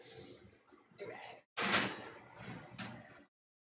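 An oven door is pulled open in a few scraping, clattering bursts, with the loudest rush of noise in the middle and brief quiet after.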